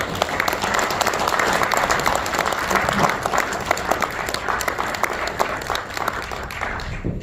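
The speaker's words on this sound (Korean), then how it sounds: "뜨거운 환영의 박수를 보내주십시오." A Kwanhun debate audience warmly applauds to welcome chairman Han Dong-hoon, a lively, close round of clapping with distinct sharp hand claps standing out over the crowd before it thins toward the end.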